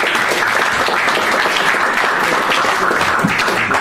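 An audience at a seminar on forests claps steadily and loudly throughout, a dense, even wash of applause with no pauses and no voices above it.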